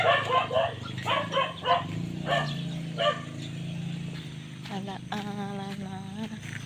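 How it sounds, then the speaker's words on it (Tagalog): Several dogs behind a house bark in a quick run of sharp, fairly close barks, then a dog lets out higher whining yelps, with a low steady hum underneath. "Ang ingay na naman ng aming mga aso."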